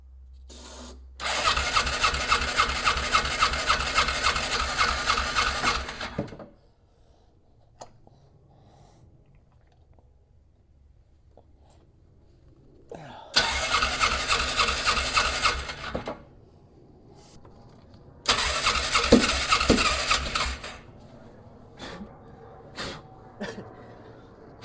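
Polaris Ranger engine cranked with carb cleaner sprayed in: three separate bursts of loud, raspy starter cranking, each lasting a few seconds, with quiet gaps between and no talk.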